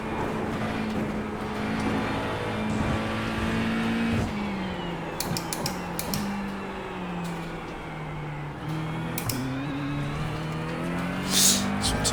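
An Aston Martin race car engine in iRacing drones and revs steadily, pitch climbing through gears with brief shift drops and occasional sharp clicks, close and continuous.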